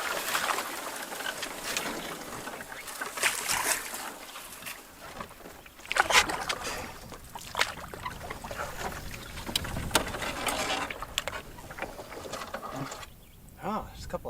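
Canoe pushing through leatherleaf and other plants in a bog on Mountain Lake in the Sylvania Wilderness, with rustling, brushing scrapes and soft water swishes close by, and a person talking over them.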